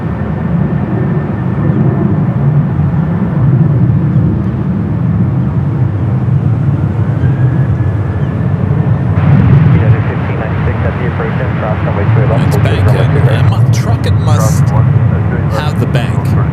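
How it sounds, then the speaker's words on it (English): A Delta airliner rolls for takeoff on runway 28 left at San Francisco airport, its engines a broad, steady distant roar that swells midway while a voice talks over it. "Delta 2725, wind 27017, runway 28 left, clear for takeoff"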